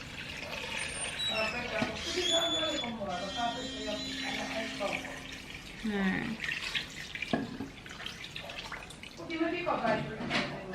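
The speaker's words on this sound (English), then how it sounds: "we're just going to put water in there till it barely covers it" Water pours and splashes into a pot of crab for a home seafood boil, running on and off in loud gushes while a person talks over it throughout.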